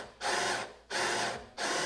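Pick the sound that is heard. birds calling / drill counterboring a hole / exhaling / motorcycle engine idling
drill counterboring a hole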